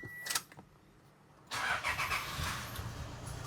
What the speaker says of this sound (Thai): สตาร์ทเครื่องยนต์ นะครับชึ่งเดียวติดนะฮะ